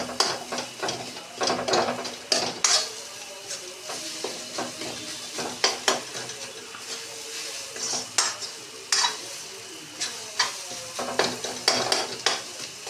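A ladle chops and scrapes besan bhurji into small pieces in a pan, with brisk, repeated clacks and scrapes over a soft sizzle, close and steady throughout.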